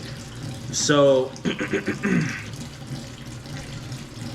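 Tap water runs into a sink while raw chicken is being washed for a Cajun meal prep, a steady hiss under a voice with brief clatter near the start.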